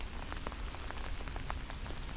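Steady rain patters on a surface under a small overhead hood, a dense continuous wash with scattered close drops ticking through it, fairly loud and with no voices.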